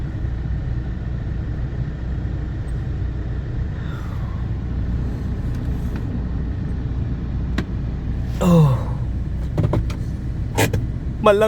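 A car left idling on a snowy morning gives a steady low engine rumble throughout, with a few brief sharper noises near the end and no talk over it.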